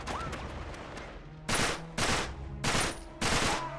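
Enemies in Uncharted 3 open fire in four loud, sharp bursts of rapid automatic gunfire spaced about half a second apart, after a stretch of quieter game ambience.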